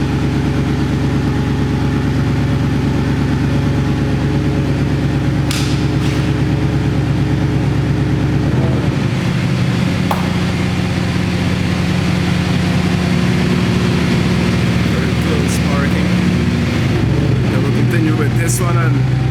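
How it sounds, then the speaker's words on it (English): A Koenigsegg Regera engine idles loudly up close, a steady deep rumble whose pitch shifts lower partway through, with occasional clicks and background noise. "Quickly show you the car in the background with all the noise."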